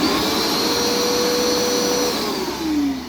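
A Hoover Smart vacuum cleaner runs its suction close and loud, with a steady motor whine that drops in pitch near the end, and no voices.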